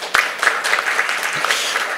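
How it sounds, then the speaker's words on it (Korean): Audience applause at a cultural heritage tourism conference session, steady broadband clapping filling two seconds with a few sharper claps standing out near the start. "박수 부탁드리겠습니다"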